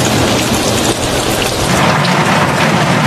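Heavy rainstorm pours steadily over a lake of floating villages in Vietnam, a dense, loud, continuous hiss of drops beating on water and surfaces with faint low rumbles beneath, no voices.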